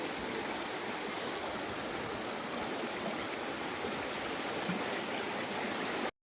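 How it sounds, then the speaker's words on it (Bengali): A waterfall and a clear river stream at Jayanti in the Dooars, Alipurduar, make a dense, unbroken rush of water, close and steady, that cuts off abruptly at the end. "Wow, lovely waterfall. এখানে নদীতে কিন্তু দারুণ, জলগুলো একদম পরিষ্কার সুন্দর।"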